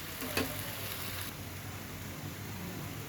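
Egg noodles frying in homemade ghee while being stirred slowly in a pan, a close, continuous sizzle and crackle with a faint scrape near the start, with no voices.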